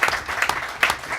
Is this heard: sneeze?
no